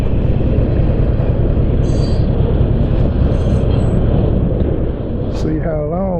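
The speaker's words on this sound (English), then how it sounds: "And now the train's gonna catch me, so I can sit here and enjoy the train." A long train rolls past close by, a steady heavy rumble and clatter of cars, then a horn blast near the end, with no talk over it.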